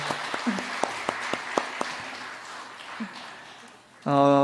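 Applause from a church congregation at a Sunday worship service comes through as a run of sharp, evenly spaced claps over a low hum, fading before a bright sustained chord swells in at the end.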